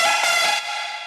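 A trap synth lead from Ableton's Analog plays a sustained bright, buzzy harmonic tone whose release drifts oddly in pitch, loud and alone, fading slightly after a brief swell.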